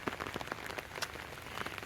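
Heavy rain falling in a rural village, a dense, steady patter of drops on surfaces with scattered sharper splashes, fairly quiet and continuous without any voices.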